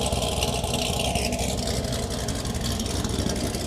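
A Chevrolet Camaro SS 1LE fitted with a BTR Trinity cam idles loudly and steadily, its rough engine drone rumbling continuously with no one speaking.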